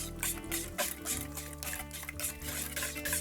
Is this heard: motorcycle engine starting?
no